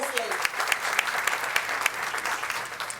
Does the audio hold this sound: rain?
no